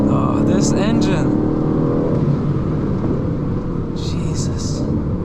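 An Aston Martin Vantage engine roars under hard acceleration in fourth gear, a loud, deep, sustained drone heard from inside the car with a voice exclaiming briefly at the start and end.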